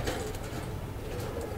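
A pigeon coos softly and steadily close by, over a continuous background hum.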